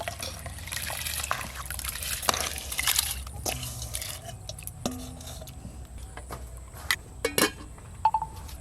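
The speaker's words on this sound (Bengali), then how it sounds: "জল গরম হয়ে গেছে, ধুয়ে ভিজিয়ে রাখা চালগুলো এবার দিয়ে দেব।" Washed, soaked rice tipped into a pot of hot water for kacchi biryani: wet splashing and sloshing with light clinks of utensils against cookware, steady and close throughout.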